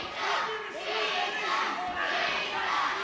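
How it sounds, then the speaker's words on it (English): A sold-out wrestling crowd in a hall in Ashford chants in unison, a loud, rhythmic rising and falling roar of many voices that continues throughout. "Chants of cheater, cries of cheater from the audience"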